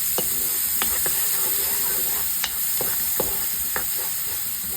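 White onion sautéing in a pot, a continuous sizzle with a steady hiss, punctuated by a few sharp clicks and taps of a utensil against the pot.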